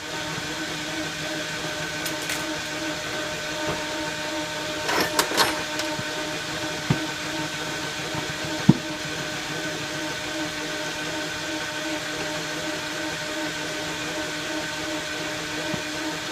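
A lathe turning a motor shaft while a light pass cuts down weld build-up, a steady mechanical hum with tonal whine running throughout, broken by a few brief clicks and scraping bursts of the tool.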